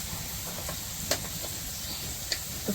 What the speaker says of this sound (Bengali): পেঁয়াজটা একটু ভাজা ভাজা করে নিই